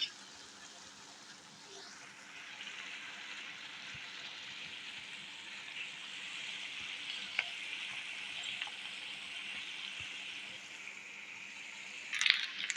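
Chicken and cooked rice fry in a pan for chicken fried rice, giving a steady moderate sizzle that builds slightly after the first seconds, with a few faint stirring clicks and a brief clatter near the end.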